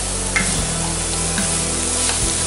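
Cabbage and chana dal fry in a pan with a loud, continuous sizzle, broken by a few scraping stirs of a spoon, heard up close with no talking.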